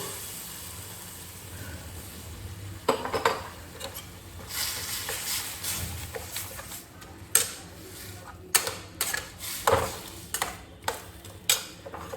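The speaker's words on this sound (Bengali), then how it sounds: "এবার আমি ডালটা দিয়ে দেব।" Lentils added to a pot and stirred while making a quick sour dal, a quiet background hiss with scattered sharp clinks and scrapes of a spoon against the pot, growing busier toward the end.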